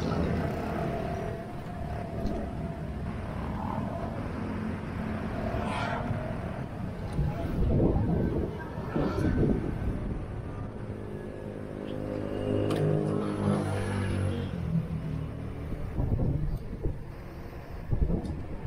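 Steady wind buffets the microphone while riding an electric mountain bike, rumbling and gusting throughout, with a motor hum and occasional voices underneath.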